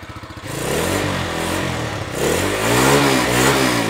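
A small 125cc motorcycle engine sputters to life after a few quick cranking pulses, then settles into a buzzy, revving idle close by.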